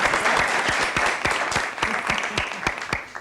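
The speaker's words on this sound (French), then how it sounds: "Très applaudi avant de commencer." A studio audience claps for a French television game show about a round-the-world race, a dense, steady burst of applause near and alone, with sharp individual claps standing out throughout.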